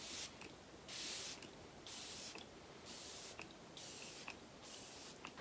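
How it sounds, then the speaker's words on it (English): Makeup setting spray goes off in several long hissing bursts, one after another, close and steady, with brief gaps between them and no talking. "I gotta do a long spray"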